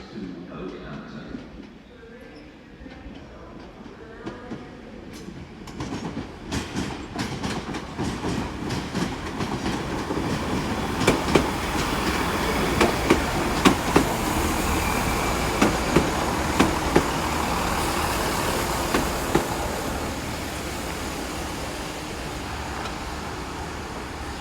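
A Great Western Railway train at Exeter St Davids station, its rumble and clattering wheels building as it rolls nearby, with station announcements and voices over the top.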